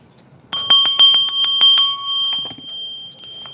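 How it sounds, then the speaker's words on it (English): A small bell struck repeatedly in a quick, uneven burst of about nine ringing hits, close and bright, the last tones left to decay in a quiet room. "So for Patience, I'm gonna hit the bell"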